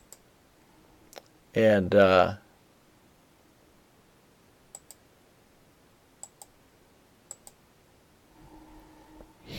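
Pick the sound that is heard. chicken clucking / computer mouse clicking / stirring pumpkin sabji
computer mouse clicking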